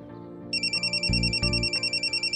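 A mobile phone rings with a repeating electronic chirping tone, steady and clear, over a low hum and a couple of soft thumps.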